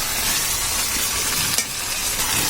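Shrimp dal with spices is stirred in a hot pan, a loud, dense sizzle with scraping stir strokes and one brief knock, with no voices.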